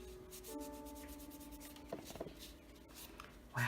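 A pad buffs chrome powder onto a painted fingernail, producing soft, close rubbing strokes with a faint scratchy texture over a low background hum, ending in a brief louder scuff.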